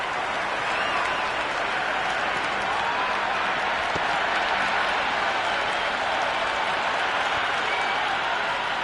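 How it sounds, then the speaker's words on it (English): Crowd at a T20 cricket match between India and Pakistan applauding and cheering, a dense, steady wash of clapping and voices that fills the whole stretch without letting up. "The crowd is electric right now."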